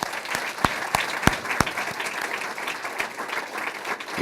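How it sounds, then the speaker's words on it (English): Audience applause at a building-wing dedication ceremony, steady dense clapping with several sharp, close individual claps standing out across roughly four seconds, no talk over it. "Let's give them a round of applause."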